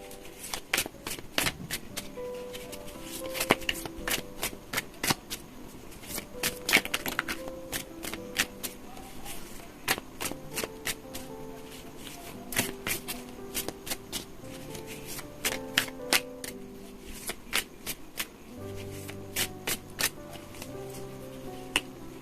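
Tarot cards are shuffled continuously and close up, a steady run of crisp riffling snaps and slaps over a quiet background of soft music.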